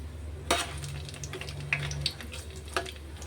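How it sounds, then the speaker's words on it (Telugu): Biryani spices and ingredients fry in a pot, a steady close sizzle broken by a few sharp clanks and scrapes of a stirring spoon against the metal, with no one talking. "బిర్యానీ సరుకులు అయితే వేసేసాను అవి అయితే ఫ్రై అవుతున్నాయి"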